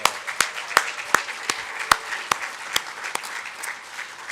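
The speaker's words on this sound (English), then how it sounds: "Maybe we give them a round of applause." At a university leadership awards ceremony, the audience claps in an evenly spaced, rhythmic pattern of sharp beats that gradually soften toward the end.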